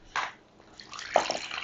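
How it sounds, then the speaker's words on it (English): Filtered water poured from a canteen into a container, a short splash followed by a softer trickle and a few closer drips toward the end, moderately loud with no talking. "I'm going to put at least 2 cups of this water"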